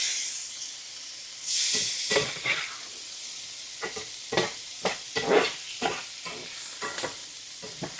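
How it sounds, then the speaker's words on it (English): Canned green beans stirred in a frying pan: a soft sizzle and hiss of frying under intermittent scraping, clattering strokes of a utensil against the pan, irregular and close. "I'm going to go ahead and dump those beans in there. Just stir all that around."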